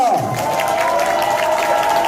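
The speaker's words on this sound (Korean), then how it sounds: "동의하신다면 큰 박수 부탁드리겠습니다." Audience applause at a political supporters' forum launch in Korea, a dense wash of clapping from a crowd with a sustained tonal hum underneath, loud and continuous throughout.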